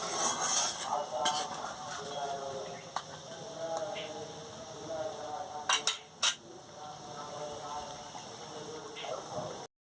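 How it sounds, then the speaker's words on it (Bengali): Prawn malai curry simmering in a pan, a steady bubbling sizzle with occasional clinks of a spoon against the pan, close and continuous, with a voice speaking over it. "দিয়ে ভালো করে ফুটিয়ে নিচ্ছি।"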